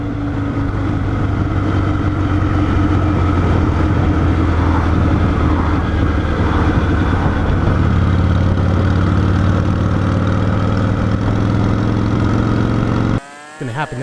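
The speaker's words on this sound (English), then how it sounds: "I'm going to give it 10 hard pulls and bring it all the way up to speed and just let it come back down" AMF Shovelhead Lowrider motorcycle engine runs loud and steady for most of the clip, its note changing as it pulls up to speed and winds back down, then cuts off sharply near the end.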